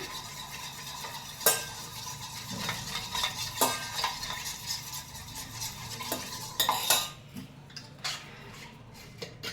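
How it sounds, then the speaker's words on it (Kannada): A spoon stirs milk powder into warm water in a cup, with quick repeated clinks and scrapes against the sides, some sharper knocks, close and fairly loud before quieting near the end. "ಫಸ್ಟು ಸ್ವಲ್ಪ ಬೆಚ್ಚಗಿರೋ ನೀರಿಗೆ ಮಿಲ್ಕ್ ಪೌಡ್ರ್ ಹಾಕ್ಕೊಂಡು ಚೆನ್ನಾಗಿ ಸ್ಟರ್ ಮಾಡ್ಕೊಳ್ತೀನಿ"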